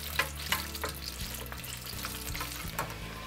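Banana fritters in crispy batter fry one or two at a time in hot oil with a steady, close sizzle and crackle, broken by a few sharp pops and stirring sounds.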